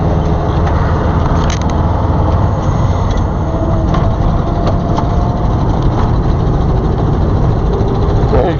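A 56-year-old work truck with manual steering drives and accelerates, its engine a loud, steady, close rumble that runs unbroken the whole time, with faint rattles over the top.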